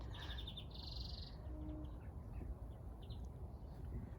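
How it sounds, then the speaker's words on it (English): Birds chirp and tweet in a garden in spring in short bursts over a steady low rumble, with a brief higher trill early on and scattered calls after. "So the birds, they're getting ever so chirpy."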